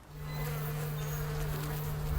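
Bees buzzing among almond trees in an orchard, a steady close hum with a strong low drone and faint passing insect whines, continuous and alone.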